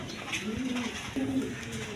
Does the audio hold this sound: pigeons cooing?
yes